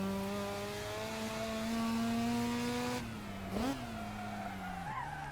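Car cornering with the handbrake in the Assetto Corsa racing game, a rising engine drone that drops away as the tires squeal and skid through the turn, followed by a second brief squeal.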